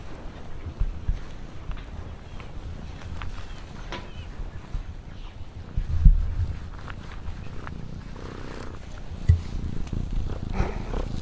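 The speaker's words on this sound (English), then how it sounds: "Petting cat." A cat purring on a farm while being petted makes a faint, low, steady rumble, broken by a few soft bumps and rustles, with no talking.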